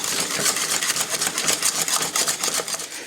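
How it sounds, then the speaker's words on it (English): A whisk beats an egg yolk mixture with parsley in a bowl for a chicken and mushroom pie, a rapid, even rattling of wire against the bowl, close and steady for the whole stretch without talking. "Now we whisk."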